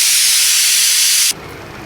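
Loud, steady hiss of steam escaping from a pressure cooker of dal after five whistles, cutting off abruptly near the end to a much quieter background.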